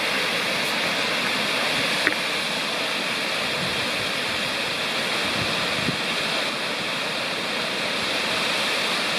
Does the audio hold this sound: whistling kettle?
no